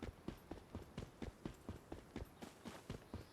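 A character in the survival game Once Human scampers toward the water's edge, with quick, evenly spaced footsteps pattering in a steady rhythm, faint and without any talk.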